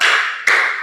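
Two sharp hand claps in a classroom clapping routine, one at the start and one about halfway through, each ringing out loud and close with room reverberation and no talk.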